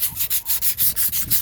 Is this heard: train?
no